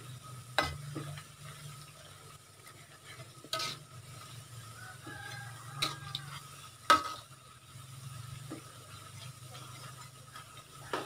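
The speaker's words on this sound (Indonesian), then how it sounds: "Diaduk-aduk sampai matang ya guys, sampai mengering gitu." Fried meatball chips stirred in a frying pan: a soft sizzle runs throughout beneath scattered scraping and clinking strokes of the utensil against the pan, quiet and close, with no talking.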